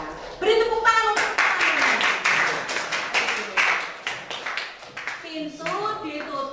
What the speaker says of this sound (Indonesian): Ya, beri tepuk tangan untuk